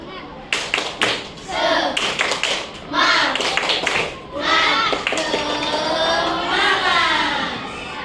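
A group in an Indonesian classroom science lesson claps together in energetic bursts, sharp and close, with voices and chanting mixed in between the claps.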